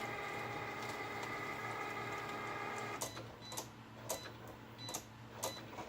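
A Cricut cutting machine scores paper for a Christmas gift card holder, first with a steady close motor whine, then with a string of crisp, rhythmic ticks and clicks as the tool moves back and forth.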